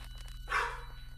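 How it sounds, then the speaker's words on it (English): A single dog bark rings out at a distance inside a house during a police search, brief and muffled over a steady low electrical hum. "And that's probably what the dog's barking about."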